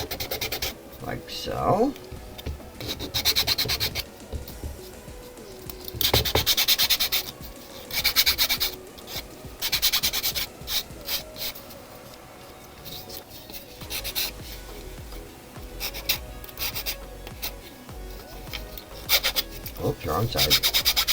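A nail file board rasps across fingernails in short bursts of scratchy strokes with pauses between, close up, while someone speaks briefly.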